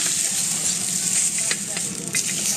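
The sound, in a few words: Wagyu steak sizzling on a hot stone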